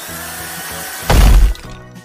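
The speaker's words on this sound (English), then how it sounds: "Install the breaker. Fufu, try the breaker." Cartoon excavator's hydraulic breaker striking stone, one short heavy crunching burst in the middle of a quieter mechanical background.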